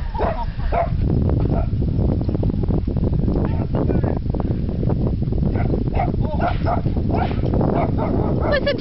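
Two dachshunds yip and bark while chasing and herding a Labrador outdoors, frequent short barks over a loud, constant rumble of wind or handling noise, with a voice calling out at times.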